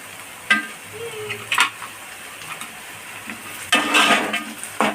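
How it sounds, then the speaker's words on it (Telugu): Onions frying in a pan for a fish curry, a soft sizzle with a few stirring scrapes and clinks of a utensil against the pan, close by, with bursts of louder scraping near the end. "దొరుకున్నటువంటి 4 ఉల్లిపాయలండి వేపుకోవాలి"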